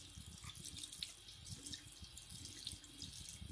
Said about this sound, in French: je mets le filet d'eau sur ma main et juste à côté